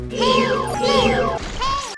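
A high, bright voice with rising and falling sung tones, a few short airy phrases in quick succession, close and clear: a fairy companion's voice from Ocarina of Time.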